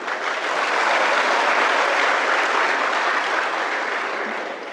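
An audience at a Marathi motivational lecture claps in loud, dense, steady applause that carries through the whole stretch and fades slightly at the end, with no voices over it.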